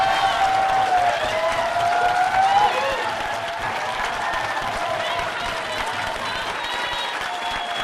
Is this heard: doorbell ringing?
no